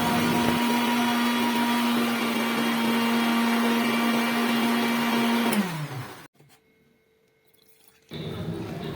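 A kitchen mixer grinder blending egg juice whirs loudly and steadily, winds down with a falling pitch, goes silent for a couple of seconds, then starts up again.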